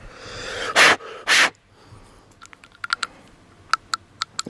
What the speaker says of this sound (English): Okay, now I got some clicking.